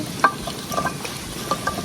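Eggplant, potatoes and dried fish, hand-mixed with spices, go into a wok. A brief, faint hiss of frying comes with a few light stirring clatters, and no one speaks.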